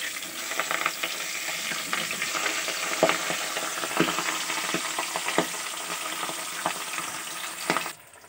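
Loud, continuous sizzle and crackle of pabda fish frying in oil, with occasional bubbling pops and a few scraping touches, stopping abruptly at the end.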